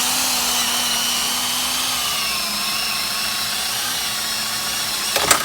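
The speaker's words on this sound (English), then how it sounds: "Starting with an 1/8 inch drill bit as a pilot hole." A power drill with a 1/8 inch bit bores a pilot hole through a center-punched spot in a vehicle frame, giving a steady whirring grind that holds for several seconds before a short clatter at the end.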